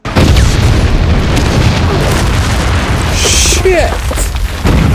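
Battle explosions from a World War II Pacific combat drama burst loud and close in a sustained rumbling barrage, with a voice shouting over the blasts.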